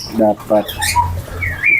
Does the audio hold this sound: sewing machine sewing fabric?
no